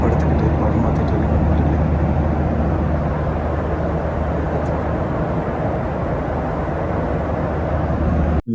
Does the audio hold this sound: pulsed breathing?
no